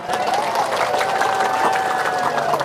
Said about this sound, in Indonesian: tepuk tangan lagi, tepuk tangan